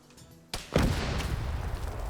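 A single explosion in a World War II multiplayer shooter erupts suddenly out of quiet background, a heavy boom with a loud sharp onset whose rumbling tail lingers for more than a second.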